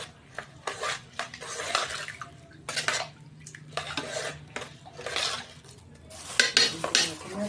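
Ingredients being mixed in a bowl give off repeated scraping and clattering bursts of utensil against bowl, close and fairly loud, in irregular strokes with short pauses between them.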